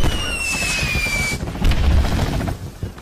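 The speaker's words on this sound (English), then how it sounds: "And fireworks fizzed and whizzed everywhere." Fireworks burst from broken crates on a cartoon railway, a long whistling whizz sliding downward over crackling, popping bangs and a low rumble, loud and continuous throughout.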